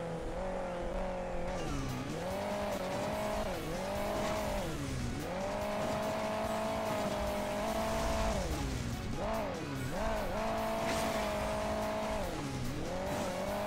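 A car engine in the mobile racing game Hill Climb Racing 2 growls and revs, its pitch rising and dipping repeatedly as the throttle changes, loud and close throughout.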